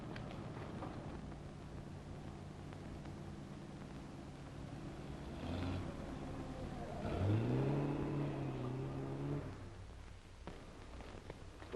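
A 1930s car with an older engine drives by, its motor rising to a louder swelling pass in the middle before fading, heard as a moderate distant rumble with background noise and no talk.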